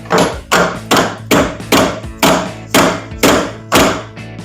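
Eight firm hammer strikes on a metal part of a 1991 Honda Civic Wagon at a steady pace, each a sharp loud knock that rings briefly before the next, close up with no talking.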